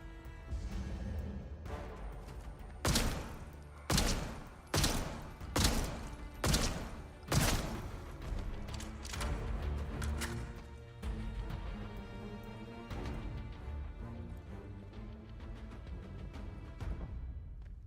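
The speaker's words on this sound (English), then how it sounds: "It takes like 5 headshots from a sniper rifle." A string of sniper rifle headshots in the video game Atomfall: six or so loud, sharp cracks fired at irregular intervals of roughly a second, each with a short booming tail, followed by quieter game ambience.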